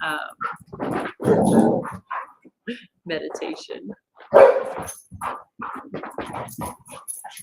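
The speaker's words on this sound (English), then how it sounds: "these silly dogs, they're all just having a blast right now." Several dogs play together, barking, yipping and growling at close range under continuous talking by a person nearby.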